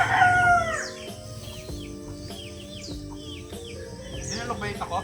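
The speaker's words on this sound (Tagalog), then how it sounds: "ano yung mga manok." Chickens on a vegetable farm, with a rooster crowing loudly at the start and then repeated short clucks and calls over a steady background hum, some faint voices mixed in.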